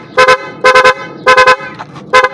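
A loud, bright motorcycle pia horn honks in four quick bursts, each a rapid double or triple toot, sharp and close.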